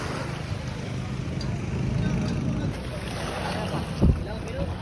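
A fishing boat's motor drones steadily nearby amid wind and water noise as it arrives, with a brief knock near the end.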